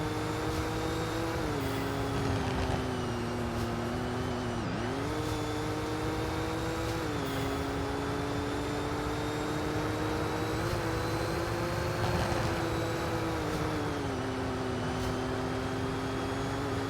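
Simulated car engine in the Roblox game Car Crushers 2, a steady droning motor note that rises and dips slightly through gear changes and cornering, loud and continuous for the whole stretch with no speech.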